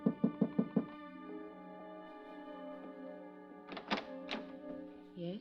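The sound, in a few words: knocking on a hotel room door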